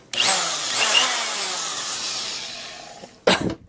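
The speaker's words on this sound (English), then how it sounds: "This electric cutting wheel I have from Harbor Freight." A Harbor Freight electric cutting wheel spins up with a loud, high whine that slowly winds down, followed by a sharp burst near the end, close by with no talk.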